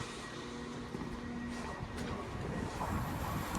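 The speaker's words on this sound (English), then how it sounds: "Doing a diverted Avanti West Coast service from Liverpool Lime Street to London Euston" Class 807 Evero train running a diverted Avanti West Coast service from Liverpool Lime Street to London Euston, passing through a station with a steady rumble of wheels on rail and a faint squeal, moderately distant.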